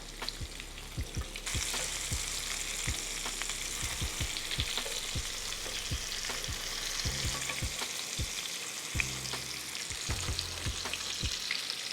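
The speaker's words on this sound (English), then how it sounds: "some perfectly seasoned salmon cooking away in some butter" Salmon bites fry in butter in a pan with a steady, close crackling sizzle, while repeated sharp taps and scrapes of a utensil mark moments of stirring and flipping throughout.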